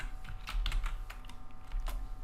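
Quick bursts of computer keyboard typing, a handful of close, soft key clicks in an irregular rhythm over a low background hum.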